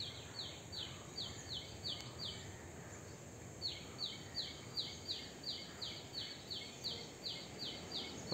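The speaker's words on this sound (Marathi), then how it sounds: "पक्ष्यांचा आवाज येत आहे" Birds call in a forest grove around a temple, sending out quick repeated chirps in two bursts over soft background hiss, fairly faint and at a distance.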